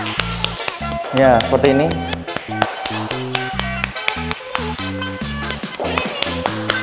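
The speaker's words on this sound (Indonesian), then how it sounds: "Sekarang kita tepuk-tepuk tangannya" Light hand clapping in an exercise class for lowering high blood pressure, diabetes and cholesterol, a steady run of soft, even claps repeated over and over under music, with brief speech in between.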